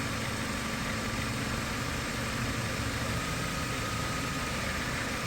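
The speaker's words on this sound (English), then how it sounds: "you can hear the engine change, and it's kind of like a misfire" The engine of a 2013 Dodge Avenger with a crankshaft position sensor fault running steadily, a continuous idle hum with slight unevenness that hints at a faint misfire, no voices.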